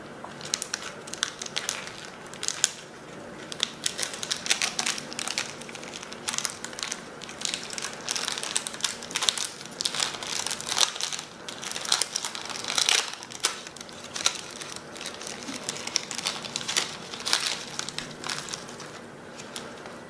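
A Paqui One Chip Challenge chip package is opened with steady, loud crinkling and crushing of its wrapper throughout, dense and close with no talking.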